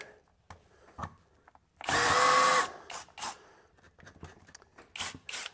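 A SKIL cordless drill with its clutch locked out whines loudly for under a second, followed by short spurts and clicks of handling.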